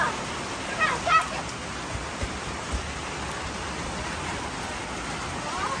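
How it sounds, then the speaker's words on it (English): Rain pours down hard in a dense, steady hiss, with a few faint knocks and thumps near the start. "It's raining so hard."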